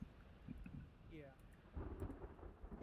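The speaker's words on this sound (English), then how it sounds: "I missed that entirely because of Thunderstorm" Thunderstorm with a low rumble of thunder swelling near the end over steady rain noise, with faint voices and game sounds during a gaming session.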